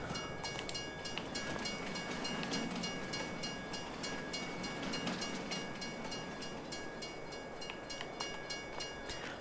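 A train rolls past in the farming game Farming Simulator 22 on the Erlengrat map, a dense continuous rumble of railcars with high metallic squeal running steadily throughout.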